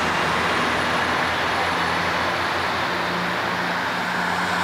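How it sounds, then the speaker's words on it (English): A car drives past outside, a steady broadband road roar with a low engine hum throughout, no voices. "And that was another car."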